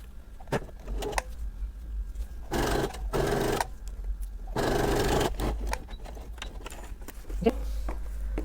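A sewing machine stitches a jacket seam in short bursts, its rapid mechanical whirring starting and stopping close by, with clicks and handling noises between runs.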